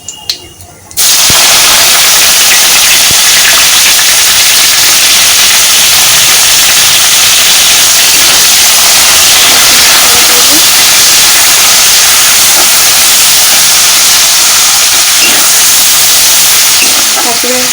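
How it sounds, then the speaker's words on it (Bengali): Chopped onion hits hot oil already seasoned with cumin, garam masala, bay leaf and a dried chilli, setting off a loud, steady, hissing sizzle that keeps going without a break. "এতে দিয়ে দিচ্ছি কুচনো পেঁয়াজটা"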